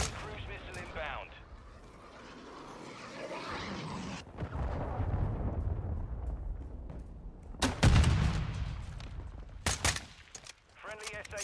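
Friendly cruise missile strike in a video game: heavy booming explosions erupt in loud bursts over rumbling battle noise, with a player's voice speaking throughout.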